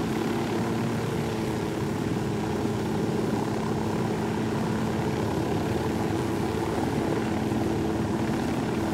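A helicopter flies in Ghost Recon Wildlands, its rotor and engine producing a continuous, loud, even drone with steady beating throughout and no voices on top.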